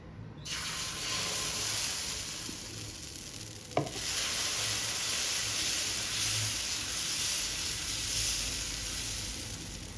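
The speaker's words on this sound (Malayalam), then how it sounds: "ഞാനൊരു പാൻ ചൂടാക്കാൻ വെച്ചിട്ടുണ്ട്. അതിലേക്ക് മാവ് ഒഴിച്ചു കൊടുക്കാം." Dosa batter poured onto a hot pan sizzles loudly, starting abruptly and holding a steady, even frying hiss for several seconds with a brief clink partway through, no voices.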